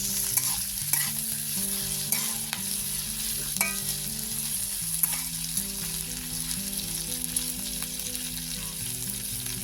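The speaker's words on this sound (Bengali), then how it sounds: "তেলের উপরে দিয়ে এটা নুন দিয়ে দিলে এটা সেদ্ধ হয়ে যাবে। ভালোভাবে এটাকে আমি ভেজে নেব।" Vegetables fried in oil with salt for a vegetable chop, giving a steady close sizzle broken by spatula stirring and scraping, with faint musical tones running underneath.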